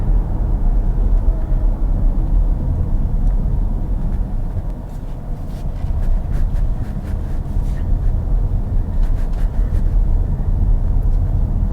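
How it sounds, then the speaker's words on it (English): A 2021 Ford Mustang Mach-E GT electric car accelerating in Whisper mode, heard from inside as a steady low road and propulsion rumble with a faint, soft electric whine rising above it. "Now, this one is in Whisper mode, and when I accelerate, it makes a propulsion noise, but not much of a noise."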